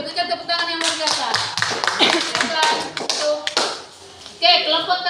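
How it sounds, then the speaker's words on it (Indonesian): A classroom of students claps for a student group presenting a lesson, an irregular burst of applause close by with chatter and voices mixed in. "berikan tepuk tangan yang luar biasa"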